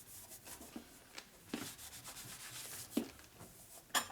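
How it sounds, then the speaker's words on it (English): A shop rag rubs back and forth over a 1990s Evo Sportster big-bore motor case to clear machining burrs, soft rhythmic scuffing strokes, faint and close, with no talking. "This rag doesn't have much grit to it, so it doesn't rub off very good. But it still takes it off."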